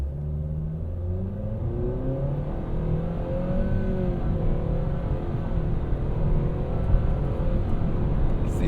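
A 2024 Nissan Sentra with a modest 149-horsepower engine pulls away from a standstill, its engine droning steadily and rising gradually in pitch as the revs climb, heard from inside with no voices.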